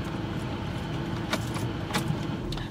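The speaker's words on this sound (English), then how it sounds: "so you'll switch the car off" A car engine is switched off with the key after pulling up at a fuel station, with keys jangling in the ignition over a steady idling rumble and a few brief clicks.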